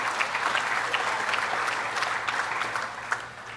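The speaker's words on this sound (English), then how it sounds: "give him a round of applause" A crowd at a raft race event claps for a contestant, a dense, loud burst of applause that fades slightly toward the end.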